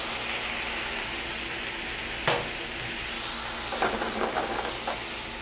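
Merlot wine sizzles and steams as it hits a hot pan of braising cabbage, a steady frying hiss broken by a few brief stirring clinks and scrapes, close and with no talk.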